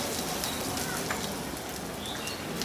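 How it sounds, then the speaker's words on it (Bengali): Chopped onions, three large local onions, fry in a pan with a steady, close, even sizzle, a dense crackling hiss that holds without pause. "এই 2-3 মিনিটের মধ্যে পেঁয়াজগুলো একটু লালচে লালচে আভা ধরা শুরু করলেই, বাদামি হওয়া শুরু করলে"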